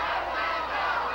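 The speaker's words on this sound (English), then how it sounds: "I don't have to tell you what the fans are yelling in the background" Wrestling fans yelling in an arena at a 1986 WFWA show, a dense, continuous roar of crowd shouting that fills the space evenly at moderate volume, with no distinct words.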